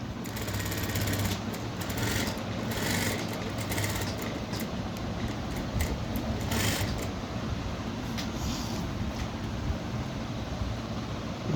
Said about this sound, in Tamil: இப்போ வந்து இதை அப்படியே அழகாக தைச்சிட்டு வரணும்.